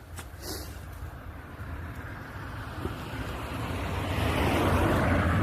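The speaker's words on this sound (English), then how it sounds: "Oh, car coming." A car approaches along a village road in Belgium, a broad rushing road noise building steadily louder toward the end over outdoor ambience, with no talk.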